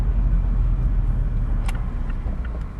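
A Mazda MX-5 sports car on the move, heard from inside as a steady, loud low engine and road rumble with no speech.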